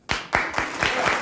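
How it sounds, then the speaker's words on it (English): A small audience breaks into applause, a handful of sharp, loud claps landing in quick succession over a brief burst. "that's just applause"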